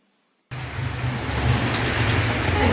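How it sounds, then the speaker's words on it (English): Heavy rain starts abruptly after a short quiet moment, then pours as a loud, dense hiss with a low rumble beneath that holds steady to the end. "oh, it's raining."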